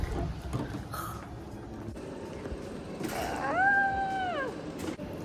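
A cat gives one clear, drawn-out meow close by, rising and falling in pitch, preceded by a short faint chirp over a quiet indoor background.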